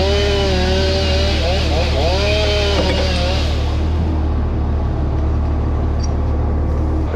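A loud, close chainsaw cuts up a fallen red oak, its engine whining and shifting pitch at first, then holding a steady, heavy roar throughout.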